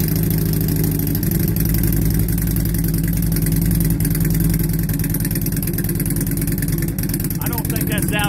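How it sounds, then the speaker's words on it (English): A motorcycle on its original stock exhaust pipes idles steadily, a loud, even, low rumble that holds throughout with no revving. "We'll give you an idle first, let you see what it sounds like idle, then we'll rev it up."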